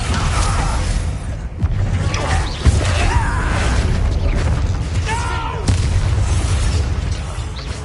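Bombarda spell blasts in Hogwarts Legacy go off amid a dense, busy combat mix, with booming bursts and mechanical clatter running throughout, including sharper hits near three and five-and-a-half seconds.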